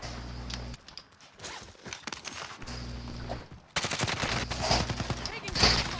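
Gunfire in a Warzone match comes in rapid bursts and single shots, some distant and some close, mixed with footsteps and gear rustle while players talk.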